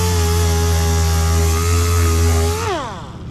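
A power sander fitted with 80 grit sandpaper works a creased, dented Harley motorcycle fender, whining steadily and loudly, then winding down in pitch near the end.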